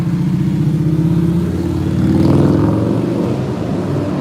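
A motorcycle engine drones past on a road, growing louder toward the middle as it nears and then fading again, heard from the roadside with no talking.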